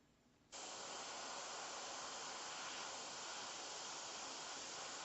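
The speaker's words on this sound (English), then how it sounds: "4 or 5 inches, you're going to get a very light, even spray" An airbrush spraying paint from about four to five inches for a portrait, starting abruptly with a steady, even, light hiss that holds constant and close, with no voices.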